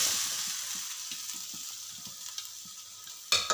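A spice masala hits hot oil in which mustard seeds have just popped, giving a soft, fading sizzle with light stirring knocks and a sudden louder hiss near the end.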